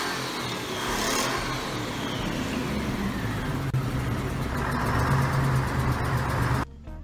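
A Perkins six-cylinder diesel engine in a Ford truck, running with a broad steady roar that swells slightly in pitch and ends abruptly.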